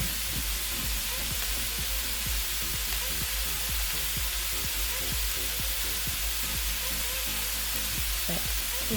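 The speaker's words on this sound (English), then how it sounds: "I'm going to let it sear on its side. You want it to sear on all sides." Beef browning in a pan for stew, with a loud, dense, steady sizzle and crackle throughout and a quick series of sharp spattering pops.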